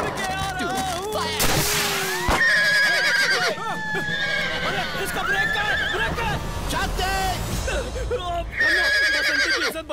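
A mare neighs loudly with repeated shrill whinnies among scuffling and thudding sounds, while people shout and talk over the commotion.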